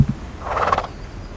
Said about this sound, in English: That's what I love about horses. They have such unique and quirky personalities.